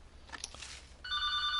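An indoor telephone rings loudly and steadily with a bright electronic tone, starting after about a second of quiet room noise and continuing to the end.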